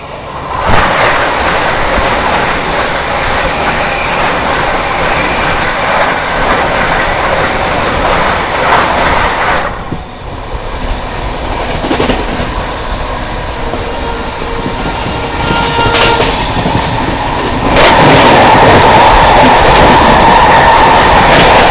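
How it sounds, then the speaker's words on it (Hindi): The Ayodhya Cantt–Anand Vihar Vande Bharat Express rushes past close by for over twenty seconds. A loud, sustained roar and whoosh of air carries faint rhythmic wheel clatter, with no voices. "अब बारी है अयोध्या कैंट आनंद विहार वंदे भारत एक्सप्रेस की क्रॉसिंग की।"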